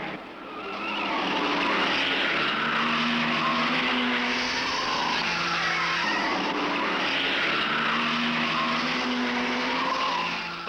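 Race car engines at the 1971 Bathurst race, a continuous roaring drone that swells and fades as cars pass at a distance, no talk.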